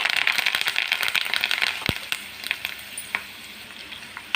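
A tempering of chana dal, urad dal, mustard seeds, cumin, garlic, chillies, curry leaves and asafoetida frying in hot oil for gongura chutney: busy close crackling and spitting that thins out toward a quieter, sparser sizzle.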